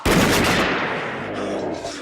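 Gunfire in the horror film Phantasm as a pistol fires a couple more shots, loud and dense from the start, then a sustained roar that slowly fades over about two seconds, with no speech.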